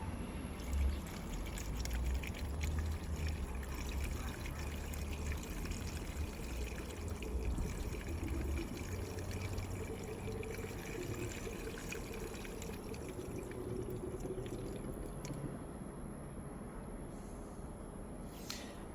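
Coolant cleaner poured from a bottle into the coolant tank of a 2018 Mercedes-Benz E 300, a continuous gurgling, trickling pour heard close up and steady throughout, with no talking.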